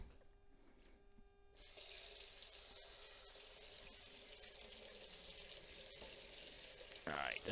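Running tap water splashes steadily into a sink as freshly refined silver bars, cast from silver-plated wire, are rinsed clean of flux, starting after a quiet moment and continuing as an even, close hiss with a short louder splash near the end.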